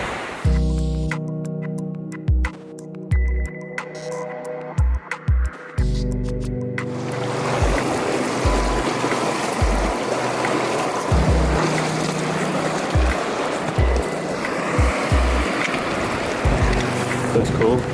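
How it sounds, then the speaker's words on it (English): River water rushes and splashes loudly around someone wading across a river on foot on a Patagonian hiking trail, the broadband flow taking over after several seconds of muffled thumping and talk, then continuing steadily to the end. "First actual river crossing."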